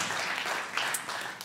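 A church congregation applauds in a steady, dense wash of clapping that holds at an even level for a moment, with no voices over it.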